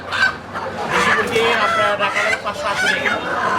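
Native country chickens at a raw food market in Ullapara, Sirajganj, cluck and crow close by, continuous and busy, with people talking nearby.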